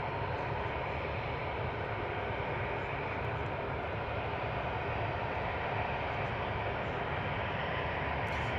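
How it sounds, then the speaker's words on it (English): A Wizz Air A321 airliner on approach to London Luton gives a steady, broad jet roar that holds at an even level for about nine seconds, with no voices over it. "Wizz Air A321 coming in from Larnaca"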